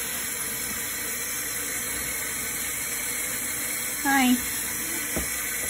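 Water runs steadily while a chicken is rinsed during a bath, a constant hiss of tap water with a short spoken greeting partway through.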